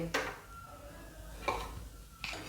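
A paratha is lifted off a pan onto a plate, giving three faint, brief scrapes and clinks of utensil on cookware, spaced apart in a quiet kitchen.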